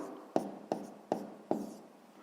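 A pen taps and scratches on paper while working a sixth-grade maths exercise, four distinct strokes landing at an even pace, close and crisp with a soft scrape trailing each one.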